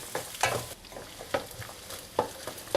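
Grated coconut being sautéed in a pan for a green peas and potato kurma, with soft scraping stirs recurring every second or so over a faint background sizzle.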